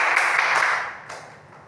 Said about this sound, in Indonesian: Bu, tepuk tangan buat Putri.